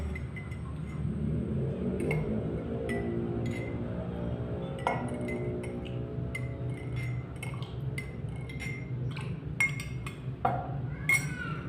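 A spoon clinks against glass over and over in an irregular rhythm while stirring baking soda and water, with a faint steady background hum.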